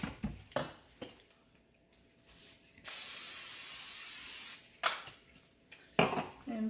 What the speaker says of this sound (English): You're going to spray your baking dish.